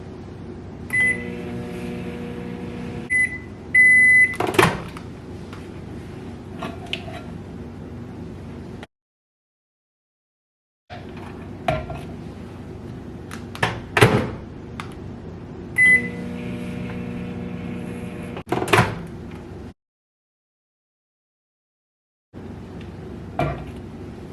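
A microwave oven runs in repeated heating cycles to melt chocolate, a steady low hum broken by beeps, the door clicking open and shut, and brief handling clatter, with silent pauses between runs.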